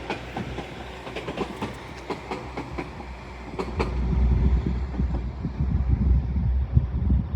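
Northern Class 195 diesel multiple unit departing York toward Leeds, wheels clicking over rail joints in quickening rhythm, then a louder rumbling engine drone as it pulls away, with wind buffeting the microphone.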